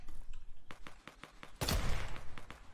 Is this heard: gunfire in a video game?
yes